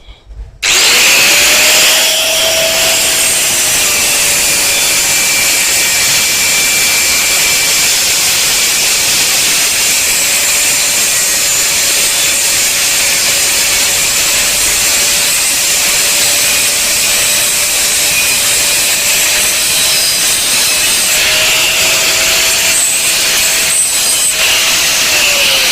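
A power cutter, likely an angle grinder with a cutting disc, slices through steel channel for a welded gate: a loud, steady, unbroken whine with a bright metallic hiss, holding close and constant for the whole stretch before briefly easing near the end.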